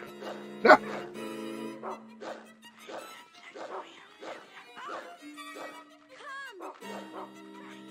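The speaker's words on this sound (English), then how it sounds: "don't bark at them" A single sharp dog bark from the Rule of Rose survival horror game on PS2, loud and brief near the start, followed by someone talking over quiet game sounds for the rest of the clip.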